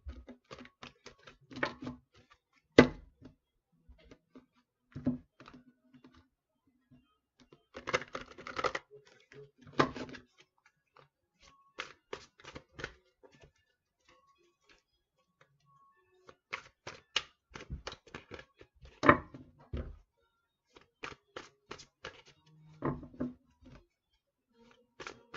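Tarot cards shuffled by hand, heard as soft, irregular clusters of clicks and riffling snaps with quiet pauses between bursts, close and fairly faint.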